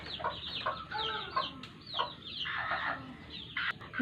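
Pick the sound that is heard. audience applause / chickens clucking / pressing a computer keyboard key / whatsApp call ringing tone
chickens clucking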